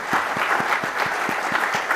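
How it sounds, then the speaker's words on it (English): Audience applauding a pair of presenters on stage at a talk on driving user experience, steady dense clapping throughout with a few louder claps standing out near the front. "let's give them a round of applause"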